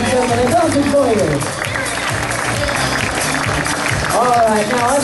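Wedding reception guests clap for the introduced wedding party, with dense applause under lively music and overlapping talk and cheers, steady in level throughout.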